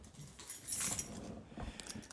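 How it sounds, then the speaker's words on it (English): A bunch of keys jangling as it is grabbed, a close metallic rattle of bright clinks, louder at first and then fading into a few lighter chinks over about two seconds. "let me grab my keys here"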